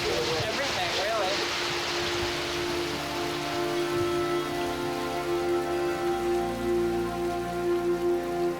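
Steady heavy rain falls in a mountain forest, a constant close wash of drops with faint tonal hum running beneath it throughout.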